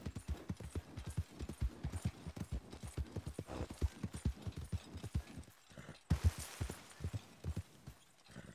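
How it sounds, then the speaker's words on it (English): Steady rhythmic clip-clop of horse hooves on a hard surface, continuing throughout with an occasional faint rustle. "This is a pretty horse."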